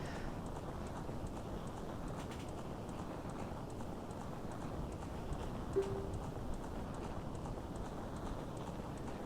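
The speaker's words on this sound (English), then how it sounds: "Ganondorf riding on his crazy-looking horse through, like, a wall of fire." Ganondorf's horse galloping through a wall of fire in the Zelda: Ocarina of Time video game, a steady clip-clop of hooves running continuously under a dense, noisy game soundscape.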